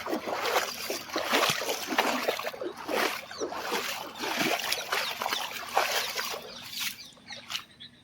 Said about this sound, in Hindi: તો હજી વરસાદ તો ચાલુ જ છે અમારે।